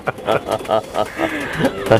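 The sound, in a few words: high flyer pigeons cooing in loft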